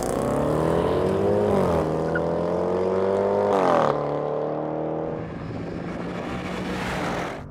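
Porsche Cayenne Turbo and Range Rover SVR drag racing side by side: loud, close engine roar climbing through gear changes, pitch rising and dropping with each shift, then settling into a steady rushing drone.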